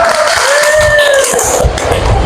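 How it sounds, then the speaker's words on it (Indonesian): Students in a vocational high school class burst into cheering and clapping, a dense, lively crowd noise with a couple of whistles lasting the whole time. "Tepuk tangan."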